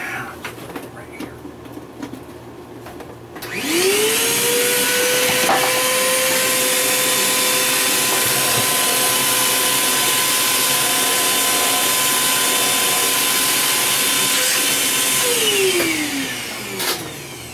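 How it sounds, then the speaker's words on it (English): A plugged-in vacuum cleaner starts up and runs loud and steady for about twelve seconds, clearing debris from a workshop floor during a rocket-tube prop build, then winds down at the end. "I'm going to suck it up with a vacuum."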